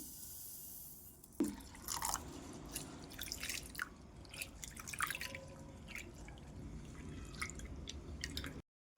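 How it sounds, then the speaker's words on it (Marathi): Toor and moong dal being rinsed in water, with close, steady dripping and wet squishing sounds throughout and no voices. "डाळी छान धुवून घेतलेल्या आहे"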